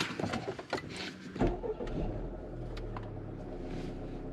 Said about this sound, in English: let's do the first startup